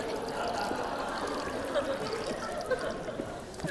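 Water streaming out of holes in a container during a fluids lecture demonstration, a continuous splashing trickle heard at moderate distance in a room.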